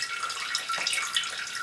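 Water hisses and sprays steadily from a cracked, split pipe elbow in frozen household plumbing, a continuous close rushing sound.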